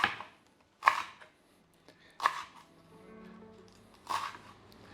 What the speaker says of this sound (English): While that's melting, I'm just going to chop up our leek.